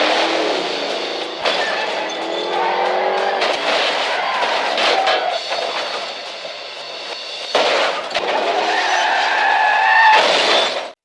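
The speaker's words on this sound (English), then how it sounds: "John chased the Vigo car that was trying to escape." Tires skid and an engine roars through a movie-style car chase as John pursues Vigo's escaping car, loud and continuous with bursts of screeching and sharp impacts over a dense, chaotic mix.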